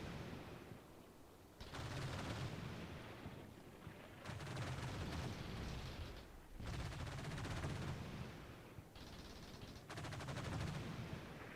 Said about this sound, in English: Taking some fire from off to the right.